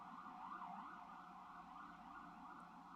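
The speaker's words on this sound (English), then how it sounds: "After this ambulance goes away." An ambulance siren wails in a steady rising and falling sweep, fairly faint and somewhat distant, without any talk over it.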